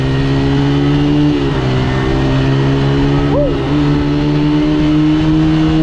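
A motocross motorcycle engine drones steadily up close, with a brief rise in pitch as it revs once midway before settling back.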